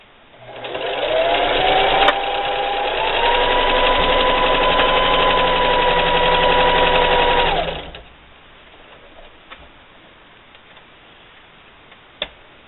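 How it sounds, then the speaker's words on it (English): A sewing machine stitching a bandana bib with a 1/4-inch seam, a close, steady motor whir running for about seven seconds, then stopping, followed by faint handling clicks. "just start sewing."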